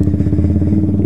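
A Yamaha Fazer 250 motorcycle fitted with a sport exhaust idles close by, its deep, steady engine pulse chugging evenly and loudly with no voices over it.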